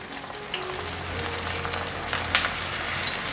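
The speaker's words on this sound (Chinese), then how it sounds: "先煎4个，等下再来煎另外4个，先让它煎定型。" Dried tofu pan-frying in a pan gives a steady, close sizzle with soft crackles and a couple of sharper pops, without any voices.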